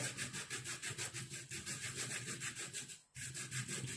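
A metal file rasps across a surface in close, steady back-and-forth strokes, about three per second, briefly pausing once before resuming, with no talking.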